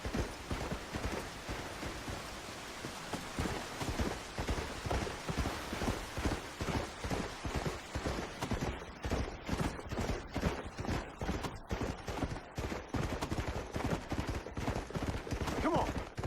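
Horse hooves gallop in Red Dead Redemption: Undead Nightmare, a fast continuous rhythmic drumming of hoofbeats over rough ground, steady and fairly loud throughout with a few faint vocal sounds.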